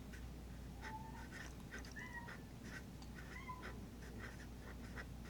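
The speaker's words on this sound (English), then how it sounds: "He is just walking around mewing" Several short, thin meows come and go over a steady low hum, moderately faint, spaced irregularly across the clip.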